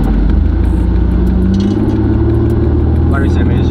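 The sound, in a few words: loud car exhaust while driving through traffic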